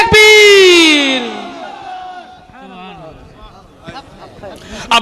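A crowd at a Karbala religious gathering roars a loud, drawn-out collective shout in reply to a takbeer call, rising into sustained cheering that fades into scattered voices and murmurs.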